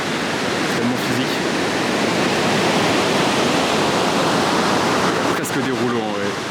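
Ocean waves break at a surf spot in a dense, continuous roar of churning white water, loud and close throughout, with a brief voice near the end.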